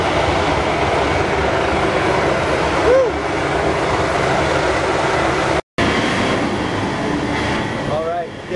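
Loud, steady engine roar near a zero-g flight airplane during boarding, a continuous broadband drone with faint voices and a short break partway through.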